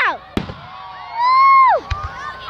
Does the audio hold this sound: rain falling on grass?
no